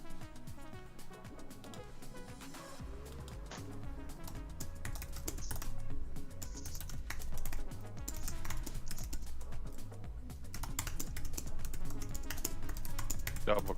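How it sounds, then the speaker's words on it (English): Keys clatter on a computer keyboard as someone types a chat message during a live gold trading session, rapid irregular clicks running steadily throughout over a busy, fairly loud background. "I'm still typing to Dan in the YouTube chat"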